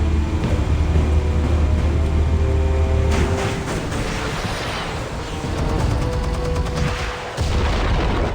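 Explosives going off in Batman: The Telltale Series, a loud, sustained rumbling boom with heavy low-end weight that rolls on for several seconds, followed by a second surge near the end.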